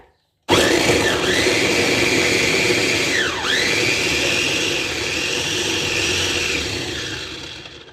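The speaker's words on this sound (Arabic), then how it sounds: "هفرم البصل اهو" An electric chopper mincing onion starts abruptly with a loud, steady whirring whine, dipping in pitch twice as the blades bog down in the onion, then running on evenly until it stops.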